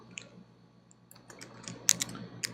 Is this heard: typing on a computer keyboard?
yes